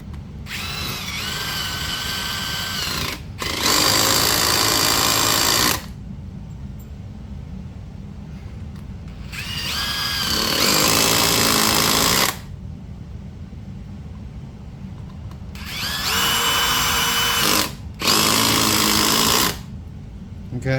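A Milwaukee Surge hydraulic impact driver running in third gear gives three pairs of loud, whining motor bursts, each a few seconds long, with short quiet gaps between them.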